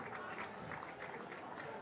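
Spectators at a men's premier field hockey semi-final give the young ball boy a round of applause, a faint, distant patter of clapping held briefly and evenly.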